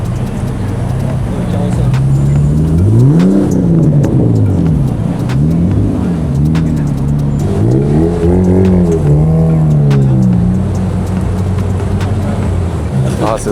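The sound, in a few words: Honda NSX sports car engine at a Japanese car meet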